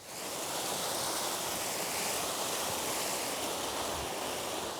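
A mountain river flows past an alpine pasture at Bannalp, giving a steady, dense rushing of water that stays constant and fairly loud throughout, with no voices.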